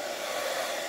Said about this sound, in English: So just a bit of a hairdryer burst, not too hot.